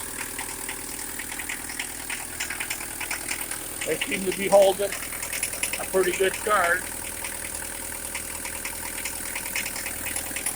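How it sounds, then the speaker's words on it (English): A Mercedes-Benz 240D diesel engine idles steadily while warming up, a continuous low rumble running through the whole stretch at a close distance, with someone talking over it. "The engine's doing what it's supposed to be doing. It's warming up."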